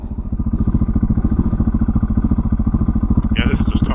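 A 2020 KTM 690 Enduro R single-cylinder motorcycle straining to climb out of a rut, its engine thumping in a rapid steady pulse, loud and close, with a person's voice heard over it.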